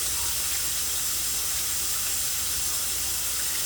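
Hot dogs, beef franks, boiling in a pot on the stove, giving a steady, loud bubbling hiss and steam rush with no break and no talk.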